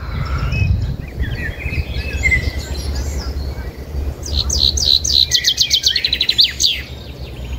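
A wild bird sings in Soğuksu National Park, Turkey, bright repeated chirping phrases rising clearer and more rapid in the second half over low outdoor rumble, with no talk.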